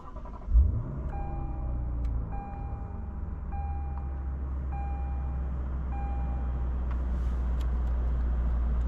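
A 2022 Lexus RC F with a 5-liter naturally aspirated V8 cruises along, its low engine drone and road rumble steady throughout, with a brief thump near the start and a faint repeating chime tone over the hum.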